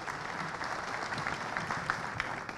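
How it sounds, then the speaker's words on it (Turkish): Sustained applause from an audience at a Van cultural gathering, dense steady clapping filling the room from start to finish with no voices on top. "Lütfen onu da alkışlayalım."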